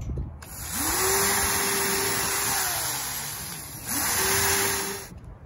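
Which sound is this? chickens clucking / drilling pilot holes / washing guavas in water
drilling pilot holes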